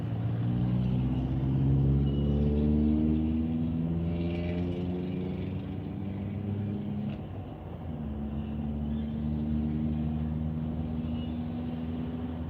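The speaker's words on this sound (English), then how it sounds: "the wind is crazy out here right now." Strong wind on an outdoor street in Malibu, California roars in a loud, continuous broadband rush with deep rumbling and a gliding engine-like drone from passing traffic, sustained throughout with no talk.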